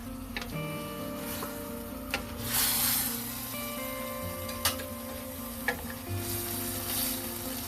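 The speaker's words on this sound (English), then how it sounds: "Okay, I'm adding some hot water." Hot water is poured into a sizzling wok of Chinese-style fried bee hoon with canned braised pork chop sauce, dried shrimp and mixed vegetables, giving a soft hiss and a brief louder sizzling surge over steady low kitchen hum.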